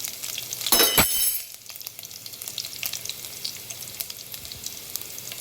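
Four cut garlic cloves hit hot oil with a loud burst of sizzling, which settles into a steady, quieter crackle of frying with faint stirring clicks, no voices over it.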